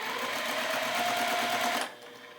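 A sewing machine runs in a steady, even whir while stitching a quilt block, then stops short, leaving a quiet room tone.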